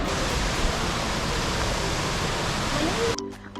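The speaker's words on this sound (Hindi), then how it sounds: "ये रहा झरना," A waterfall on the road trip from Kasol to Tosh roars as a dense, steady wash of rushing water, loud and unbroken before cutting off abruptly near the end.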